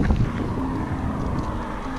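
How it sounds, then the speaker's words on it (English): Strong roadside wind in southern South America buffets the microphone in a steady, roaring rush with low rumbling gusts, loud and continuous throughout. "It's pretty bloody windy!"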